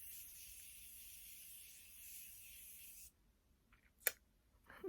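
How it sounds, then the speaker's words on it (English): Morphe setting spray mists out in one continuous soft hiss for about three seconds, up close and fairly quiet, then stops, leaving only faint handling clicks and a small tap. "use more of the Morphe setting spray"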